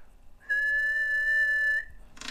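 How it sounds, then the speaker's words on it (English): A steady, clear whistle held for about a second and a half into the microphone of an Icom IC-7100 ham radio, a pure tone with harmonics, ending with a short burst of hiss. "when I whistle, it's pulling about 15 amps is all it's pulling on the amp meter even"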